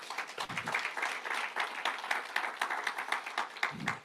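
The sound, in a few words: church congregation applause offered to Christ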